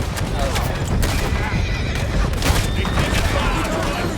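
Galloping horses and neighing amid gunfire during a battle in the Red Dead Redemption 2 video game, a dense, loud, continuous mix with sharp bursts and voices shouting over it.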